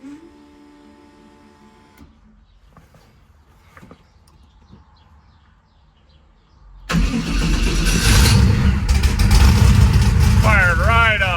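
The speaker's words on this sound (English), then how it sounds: "Cold start after a while of sitting." A car engine cold-starting after sitting unused for months, in a workshop: quiet stretch with faint clatter, then the engine catches and settles into a loud, steady running roar that continues to the end.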